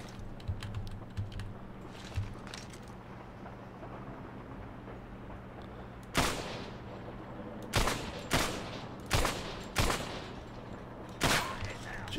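Gunfire in the World War II shooter Medal of Honor: Airborne: after six seconds of low rumbling ambience, a string of sharp, loud shots cracks out in uneven bursts, each with a short echoing tail.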